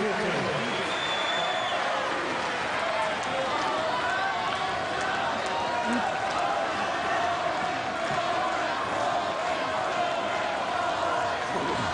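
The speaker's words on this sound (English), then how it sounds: "they're cheering for Tsonga tonight" A packed stadium crowd roars and cheers steadily for Jo-Wilfried Tsonga during the 2008 Australian Open men's final against Novak Djokovic, a loud continuous wall of noise with scattered claps.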